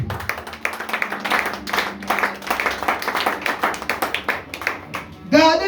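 A church congregation claps in praise of the Lord, a steady run of close, rhythmic hand claps mixed with voices, ending in a louder burst.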